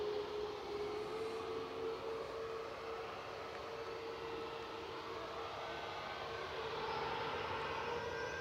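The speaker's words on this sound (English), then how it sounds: "A380 is spooling up." An Airbus A380's engines spool up at Manchester Airport, a steady, fairly faint broadband roar with a sustained low-mid tone, continuous and unbroken, without voices.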